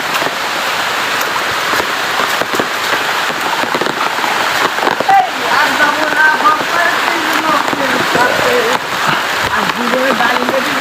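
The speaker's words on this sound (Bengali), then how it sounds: "বৃষ্টি হচ্ছে সাংঘাতিক পরিমাণ" Heavy rain pours steadily outdoors in dense, continuous hiss and patter, loud and close, with drops drumming on a surface and a voice talking intermittently over it.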